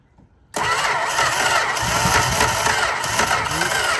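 A Plymouth Valiant's Slant 6 engine on a 1964 convertible catches and fires up after a short quiet moment, then settles into a loud, rough, steady idle close to the microphone with no talk.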